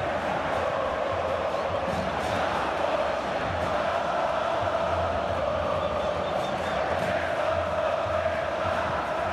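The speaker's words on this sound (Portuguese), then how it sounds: "Torcida gostou da vontade ali na hora da dividida." A simulated stadium crowd in the PES 2021 football game roars steadily, a dense, continuous wall of cheering and chanting.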